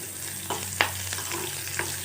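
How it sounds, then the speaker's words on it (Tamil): Mustard seeds and urad dal spluttering in a little hot oil in a pan on the stove, with a steady sizzle broken by a few sharp pops and crackles, close up and with no talking. "கொஞ்சமாக எண்ணெய் ஊற்றி கொஞ்சம் கடுகு உளுத்தம்பருப்பு போட்டு வெடித்த உடனே"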